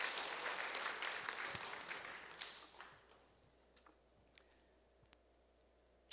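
A church congregation applauding at an evening evangelism testimony service, a full burst of clapping that tapers off over about three seconds, leaving scattered single claps and near-quiet before a sharp sound at the very end.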